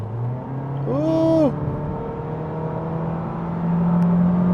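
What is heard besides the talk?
2026 Honda Civic Sport with CVT accelerating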